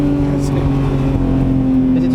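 A Porsche 991 Speedster's flat-six engine holds a steady, resonant drone at near idle, loud and close, while a person talks over it.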